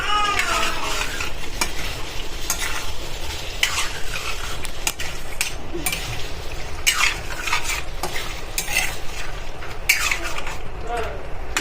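A Punjabi vegetable curry with a final pinch of garam masala is stirred in a pan, a dense sizzle under rapid, continuous scraping and clinks of a metal spoon against the pan, loud and close.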